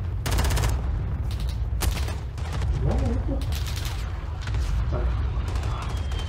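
Repeated gunfire in a Call of Duty: Modern Warfare Ground War match, loud bursts and single cracks spread across the span, some close and some distant, over steady low battlefield rumble.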